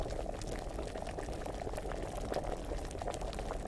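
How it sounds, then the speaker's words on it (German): Potion bubbling in a pot in Kingdom Come Deliverance, made with marigold and comfrey, a quiet continuous boiling with a dense wash of small bubbling pops and no voices. "Ich glaube, das hat jetzt zu lange gekocht."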